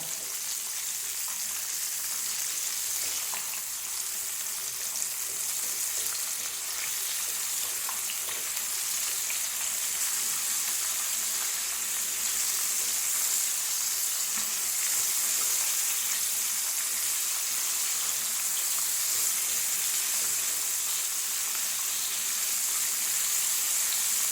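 Small batches of KFC-style popcorn chicken deep-fry in a small pan of oil on medium heat, giving a continuous bubbling hiss that holds steady and close throughout.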